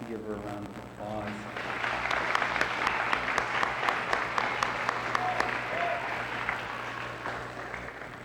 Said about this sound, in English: I'd like you to give her a round of applause